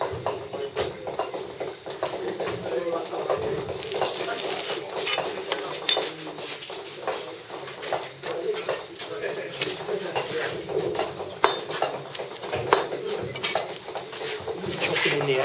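Claw tool and chisel chipping waste from the chamfers of a Bath stone moulding, giving steady clinking taps at close range over a busy background.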